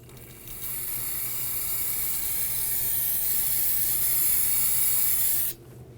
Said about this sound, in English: you want to use some spray solvent to clean up any of that residual brake fluid